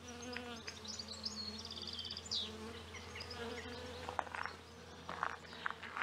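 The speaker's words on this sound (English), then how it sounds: "Don't know if you can hear the bees." Bees buzz continuously close by, a layered droning hum that rises and falls as individual insects pass near, outdoors in Cornwall.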